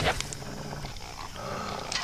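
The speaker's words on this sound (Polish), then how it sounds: "O, dużo piesków." Brief snarling, growly dog sounds from the video game Myth II Soulblighter, rising and fading over a steady game ambience without speech.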